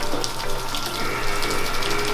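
Water pouring and splashing steadily while a carabao (water buffalo) is bathed, a loud continuous gushing wash close by with no talking.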